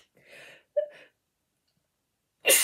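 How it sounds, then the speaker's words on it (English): A person's sneeze comes as a sudden loud burst at the very end, after a few soft breathy vocal sounds and a stretch of quiet. "I'm going to sneeze, sorry."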